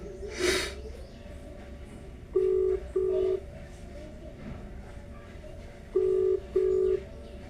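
A WhatsApp call rings out on a phone, giving two pairs of short electronic ringback tones a few seconds apart, moderately close, with a breathy sniff near the start.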